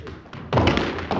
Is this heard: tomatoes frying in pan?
no